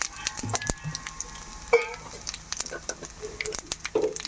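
Cumin seeds and dried red chillies sizzle and crackle in hot oil while tempering for vakkaya pappu, a steady close frying hiss with stirring clicks under someone speaking.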